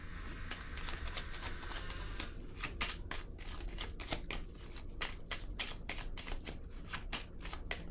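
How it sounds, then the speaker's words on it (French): Tarot cards are handled and laid down on a table in a rapid run of light, crisp snaps and soft slides, quiet and close, with no talking. "Je vais déposer une autre carte ici."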